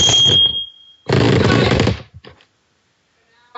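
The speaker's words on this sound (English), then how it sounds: "So we know we can activate our smoke alarm." A home smoke alarm sounds after its test button is pressed, giving loud shrill beeps, two long bursts separated by a pause, then a few short trailing chirps and near silence.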